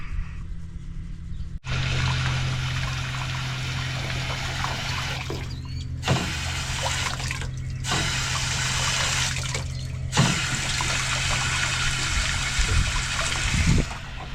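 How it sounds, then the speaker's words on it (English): Water runs steadily from a farm tap to fill a drink for a donkey, a continuous close hiss with brief gaps where the flow pauses, and faint clanks near the end. "Get you some water here in just a second."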